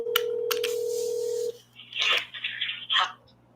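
A telephone line with a steady tone that cuts off, followed by a few short electronic beeps and then a burst of voice-like sound, close and fairly loud.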